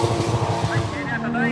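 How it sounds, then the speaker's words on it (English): Toyota AE86 cars drifting at a Japanese car meet, engines droning with tire squeal rising toward the end, heard from trackside while someone talks over the noise. "It's actually been months since I came to watch some drifting."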